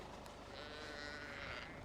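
A Jacob sheep in a lambing barn gives a faint, drawn-out bleat lasting under two seconds against a quiet indoor background.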